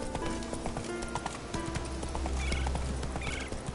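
A horse galloping in a PS4 video game, steady rhythmic hoofbeats throughout, loud and close, with faint neighing and other game sounds layered over the run.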